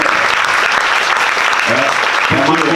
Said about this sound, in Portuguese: palmas à família Santos por conceder